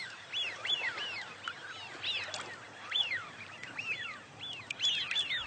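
Eurasian wigeons calling repeatedly at Chilika Lake, a mix of rising whistled notes overlapping at moderate distance with a soft background hiss.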